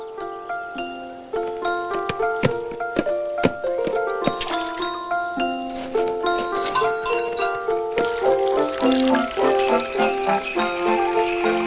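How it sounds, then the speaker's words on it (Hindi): Jingle flowers in the Dragon Tales cartoon tinkle with bright, bell-like chiming notes, a dense run of quick metallic tings that grows busier and shimmers toward the end, over light musical backing. "देखो वो झिनझिना रहे हैं"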